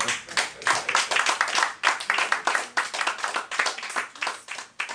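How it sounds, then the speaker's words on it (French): An audience at an evening poetry reading claps together in a dense, continuous burst of close applause, with a few voices faintly underneath. "On l'applaudit, mesdames et messieurs,"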